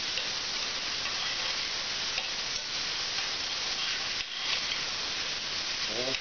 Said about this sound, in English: So, gonna add my garlic and ginger.